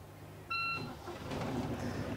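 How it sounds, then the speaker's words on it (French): A short electronic ignition alarm beep sounds once on a Mahé 36 boat, clear and tonal, followed by the engine cranking and starting into a steady idle. "Là je mets mon contact, j'attends mon alarme et je démarre."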